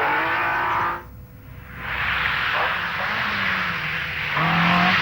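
A heavy Mercedes 450 SL rally car from the 1980 championship drives past with a loud, sustained engine roar and road noise, briefly dropping before rising again.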